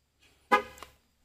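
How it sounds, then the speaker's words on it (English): A 2021 Chevy Silverado 2500 HD gives a single short, loud horn honk during a tire-pressure sensor reset, sounding briefly alone against a quiet background. "heard it honk, moving on."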